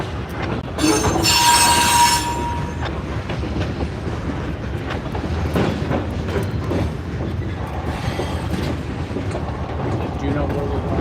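A train passing a railroad crossing, with loud, sustained wheel squeal over a heavy rolling rumble and clatter, heard close by at trackside.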